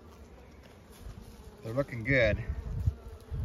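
A steady, close buzzing of many honeybees, with a person briefly speaking over it.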